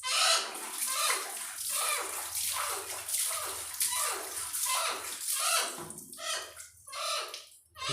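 Water splashes and sloshes in uneven bursts as a lice-infested parrot is rinsed during its bath, close and fairly steady with brief pauses.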